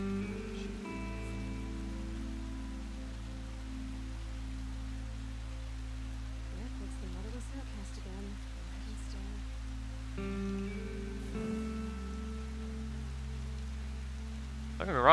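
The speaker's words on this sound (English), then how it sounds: "why is everyone having dinner in the pouring rain?" Heavy rain pours steadily in a Horizon Zero Dawn camp scene, a continuous wash of falling water under a low game hum, with a few faint tonal sounds.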